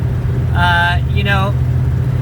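A classic Ford Mustang cruising in normal road driving: a steady low engine and road drone runs throughout, with a voice talking briefly over it near the middle.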